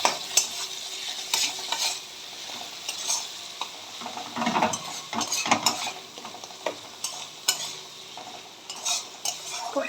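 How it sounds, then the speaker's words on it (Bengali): Turmeric and Kashmiri chilli powder frying in a pan for a vegetarian soybean curry, with a steady close sizzle and repeated scraping strokes of a spoon stirring the spices, and no voices. "হলুদ দিয়ে দেব, আর দিয়ে দেব একটু কাশ্মীরি লঙ্কা গুঁড়ো। ভালো করে কষিয়ে নিতে হবে।"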